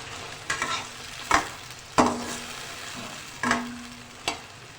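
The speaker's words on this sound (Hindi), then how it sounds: "अब हम इसमें डाल के ना प्याज को अच्छी तरह सॉफ्ट कर लेंगे।" Onions stirred in hot oil for a spiced okra (bhindi) dish, sizzling steadily with a few sharp clatters of a spoon against the pan at irregular intervals, close and clear, with no voices.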